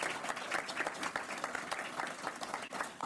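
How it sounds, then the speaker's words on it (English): Audience applause at a county fire department appointment ceremony, dense continuous clapping from a crowd, fairly even and sustained for a few seconds. "Let's give her a round of applause."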